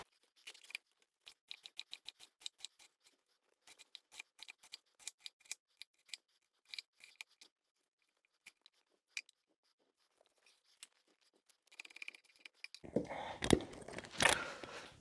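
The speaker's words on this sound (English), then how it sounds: "with the cabbage, what you just want to cut it into nice sort of thin slices" A knife slices cabbage into thin strips on a cutting board, making a run of quick, crisp cuts in short bursts. It ends with a louder rustling, crunching clatter of the sliced cabbage.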